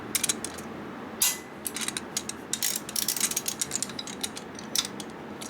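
A torque wrench ratchets while tightening bolts on a 1979 93ci Harley shovelhead engine during a rebuild, giving close, irregular bursts of sharp clicking.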